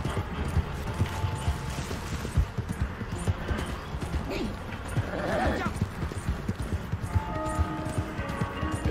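Hooves of a horse in Red Dead Redemption 2 clop in a steady galloping rhythm, close and continuous, with a voice talking over them.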